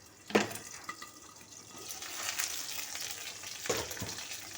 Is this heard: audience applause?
no